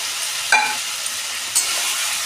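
Potatoes fry in spiced oil with melted tomato masala, a loud steady hiss with a couple of brief stirring scrapes.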